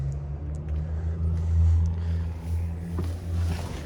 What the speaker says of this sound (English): Easy starting car. I have been driving it today, so this is a hot start.